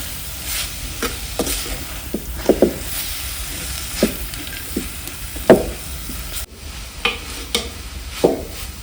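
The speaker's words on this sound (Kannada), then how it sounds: "ಕ್ಯಾರೆಟ್ ಸ್ವಲ್ಪ ಫ್ರೈ ಮಾಡ್ಕೊಳ್ಳೋಣ ಈರುಳ್ಳಿ ಜೊತೆ." Carrots fry with onions in a pan during village cooking, a soft steady sizzle broken by repeated scraping, clacking stirs of a spoon against the pan at an uneven rhythm, close and clear with no talking.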